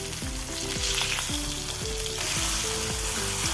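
Sardines frying in a pan and being turned over, a dense steady sizzle close by with repeated light scraping knocks as pieces are flipped, over a faint background tone.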